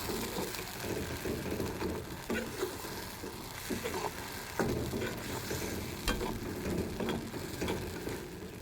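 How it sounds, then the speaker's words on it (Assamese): Mustard seeds with ginger and garlic paste frying and being stirred in a pan, a steady close sizzle with repeated scraping strokes throughout and no talk. "আদা, নহৰু কেঁচা গোন্ধটো যোৱালৈকে ভাজি অকণমান পানীটো শুকুৱাই দিম।"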